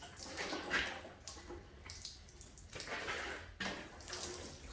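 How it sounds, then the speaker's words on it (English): Water poured from a can onto a freshly repotted ash bonsai, a soft splashing and trickling that swells and fades in a few quiet pulses, close by and without talk. "A little bit more water."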